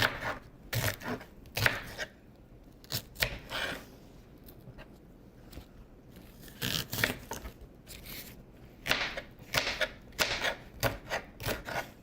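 A knife finely chopping bell pepper on a board for pav bhaji, rapid bursts of crisp taps near and clear, separated by short quiet pauses.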